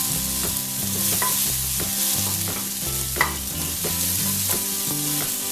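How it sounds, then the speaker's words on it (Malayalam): Tomato and curry leaves sautéing in a pan for a soya chunks ularthiyathu dish, a steady close sizzle with stirring scrapes over background music, no talk. "ടൊമാറ്റോ ഒരു ഇച്ചിരി നേരം ഒന്ന് വഴറ്റിയെടുക്കണം"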